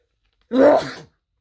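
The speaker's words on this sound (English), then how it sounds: "almost I'm gonna sneeze" One sharp, close sneeze bursts out of silence and fades quickly.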